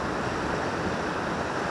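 Sea waves slapping around a fishing boat, a dense continuous wash of water noise, close and steady with no voices.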